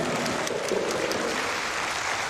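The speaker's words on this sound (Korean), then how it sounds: "박수 한번 쳐." Audience clapping throughout a lecture hall, a dense, even wash of applause that stays loud and steady for the whole short stretch with no voices over it.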